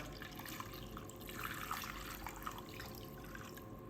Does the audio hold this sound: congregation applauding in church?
no